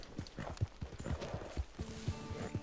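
Horse hooves clip-clopping in Red Dead Redemption 2, a steady trotting rhythm of soft thuds on dirt, fairly close, with faint game ambience and a brief tonal chime toward the end.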